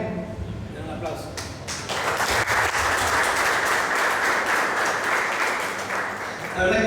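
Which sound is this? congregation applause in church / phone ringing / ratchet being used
congregation applause in church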